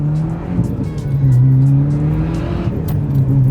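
Turbocharged Mitsubishi Evo X engine pulling under acceleration, a loud steady drone with rising harmonics that swells and holds, heard close from inside the car.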